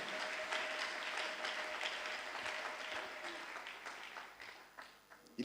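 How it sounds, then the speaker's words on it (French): A church congregation claps and cheers in a continuous, dense wash of applause that holds steady, then thins out toward the end, with some voices mixed in. "Nous l'acclamons très fort."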